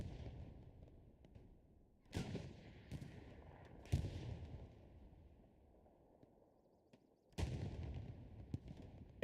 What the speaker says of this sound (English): You can see Vadi on his position just getting hammered by all sorts of artillery there